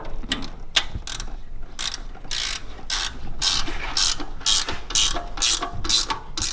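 Ratchet wrench rapidly clicking while tightening the bolts on a power steering pump of a 1997–2003 Ford Falcon AU, a close, steady series of sharp metallic ratcheting strokes with no talk.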